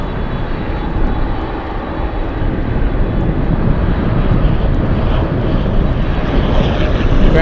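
A Grand Caravan single-engine propeller plane at Anchorage airport drones steadily and loudly throughout, its broad engine roar holding an even level with gusty wind mixed in.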